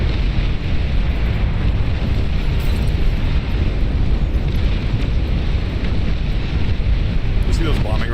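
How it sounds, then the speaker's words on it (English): Bombing-run explosions rumble in the strategy game Beyond All Reason, a continuous heavy, booming wash of blasts that stays loud and dense throughout, with a voice talking faintly underneath. "You see those bombing runs, by the way?"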